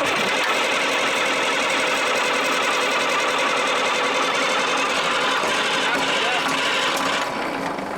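A Caterpillar 3306 diesel engine being cranked over, a loud fast continuous chattering rattle from the starter and engine that holds steady for several seconds before easing slightly at the end.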